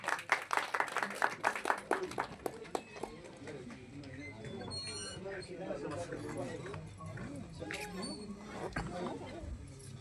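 At a film teaser launch event, an audience claps in sharp, distinct bursts to welcome guests onto the stage. The clapping fades after a few seconds into a murmur of voices and background music.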